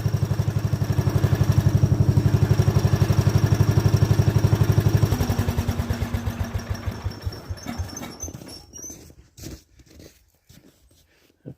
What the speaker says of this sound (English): Alright, I'll start off my tractor